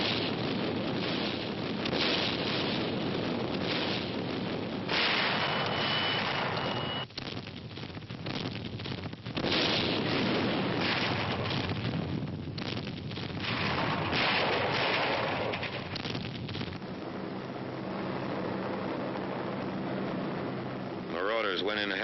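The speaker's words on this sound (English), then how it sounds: "The naval bombardment continues." Naval bombardment during the Normandy invasion at daybreak: continuous heavy artillery fire rumbles through a dense, noisy wartime soundtrack, with wind-like roar and distant booms running the whole length.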